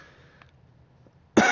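A single sharp cough bursts out near the end after a quiet stretch, close and loud, from a person playing the NASCAR Heat 3 racing game.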